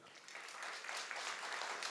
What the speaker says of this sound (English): Let's give them a big round of applause as they come to receive the award.